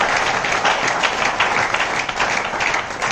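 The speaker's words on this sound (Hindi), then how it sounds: "एक बार इन लोगों के लिए तालियां बजाइए जिन्होंने स्पेसिफिक गोल लिखा है।" An audience at a motivational goal-setting talk breaks into dense, steady applause, a continuous wash of many hands clapping together that stays loud throughout.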